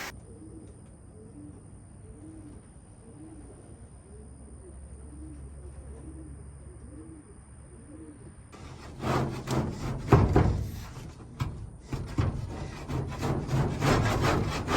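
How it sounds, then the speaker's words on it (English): Pigeons coo softly in a racing pigeon loft, then metal scraping on an expanded metal floor starts midway, a series of loud, uneven rasping strokes that clears buildup close by. "I'm starting to get a tiny bit of buildup, so I'll give that a scrape"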